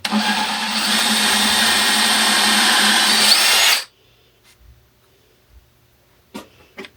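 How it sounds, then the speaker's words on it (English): A power drill running during a front post replacement, with a loud, steady, high-pitched whine for nearly four seconds before stopping abruptly. A few faint clicks and knocks follow in near silence. "I'm hoping this drills well."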